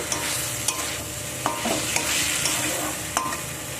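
Fried potatoes stir-fried in a pan, a soft continuous sizzle broken by a few sharp utensil knocks and scrapes against the pan.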